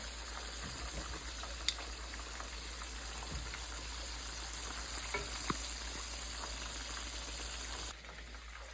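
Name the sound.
southern fried chicken frying in oil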